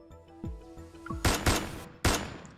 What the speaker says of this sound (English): A gunshot explodes in an empty reception hall.